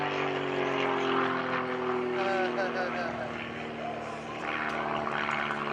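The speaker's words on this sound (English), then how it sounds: "It's the prop tips, that Cato prop, just about going supersonic, making all that noise." Pitts S1S aerobatic biplane at an airshow, IO-360 engine driving a three-bladed Catto prop with tips near supersonic, roaring loudly and steadily overhead with a rasping, buzzing whine that shifts in pitch, while an announcer talks over it.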